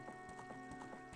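Horse hooves clip-clop at a brisk, even gait in Zelda: Ocarina of Time, a faint, regular rhythm of hoof beats with soft game ambience underneath.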